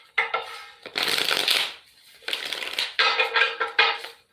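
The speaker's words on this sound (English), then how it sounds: "going to shuffle the deck" A deck of tarot cards being shuffled, crisp riffling bursts in several rapid runs with short pauses between them, close and fairly loud, with no talking.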